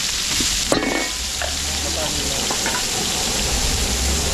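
Garlic, onion and ginger sauté in oil in a pan during catering cooking, a loud continuous sizzle with a burst of clattering as the ingredients go in and occasional scraping after.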